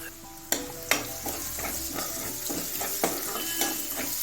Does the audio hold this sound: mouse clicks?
no